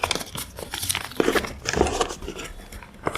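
Paper crinkles and crunches up close for about three seconds in irregular bursts as a shipping label from an online marketplace order is cut.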